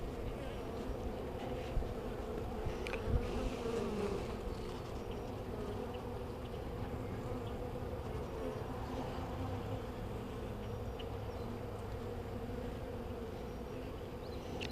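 Honey bees in a nuc being installed keep up a steady, dense, low buzz throughout, close and continuous, with faint handling noises.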